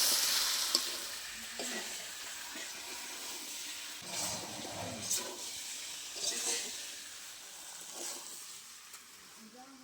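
Pointed gourd and prawns frying with spices in a pan make a soft, continuous sizzle, broken by a few faint stirring scrapes.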